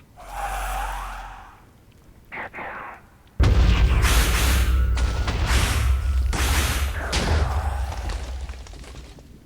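Wither explosions in Minecraft: after heavy breathing-like sounds and a short pause, a sudden loud roaring burst of rumbling blasts erupts and continues with repeated booms, close and dense.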